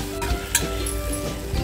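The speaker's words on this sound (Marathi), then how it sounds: "मिक्स करून घ्यायचे।" Boiled white peas get stirred into hot masala sizzling in oil in a pan, a steady close fry with soft scraping strokes of the spoon.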